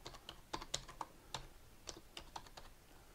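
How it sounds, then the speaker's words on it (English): A computer keyboard on a Raspberry Pi 4 desktop is typed on in a quiet room, producing a short run of irregular, close, crisp key clicks with brief pauses between them. "and then if I start typing"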